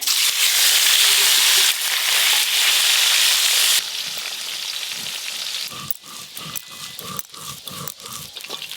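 Rohu and catla fish fry in a pan with a loud, steady hiss of hot oil, which then drops to a quieter sizzle broken by short clatters of stirring.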